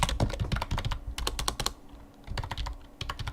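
Fast, uneven clatter of keys on a computer keyboard, close and crisp, in bursts of rapid keystrokes broken by short pauses, with no speech.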